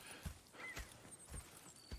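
A horse walks in the video game Red Dead Redemption 2, its hooves clip-clopping in an even rhythm of soft thuds, fairly quiet and alone without talk.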